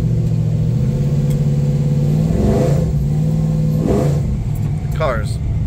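An LS-swapped Chevelle accelerates on the road, its V8 engine droning steadily and then rising in a couple of quick revving surges, with someone talking over the engine noise.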